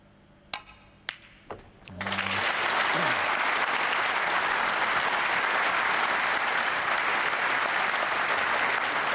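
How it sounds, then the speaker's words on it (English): A few sharp snooker ball clicks ring out, then the Masters quarter-final crowd bursts into sustained, even applause for a superb shot, filling the rest of the moment at steady strength. "a generous round of applause for a superb shot"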